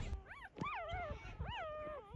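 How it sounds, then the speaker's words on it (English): A small puppy whimpers and whines in several rising, wavering cries, close by and fairly soft, with quiet rustling underneath. "The little puppy looked around, whimpering softly, as if trying to find its mother."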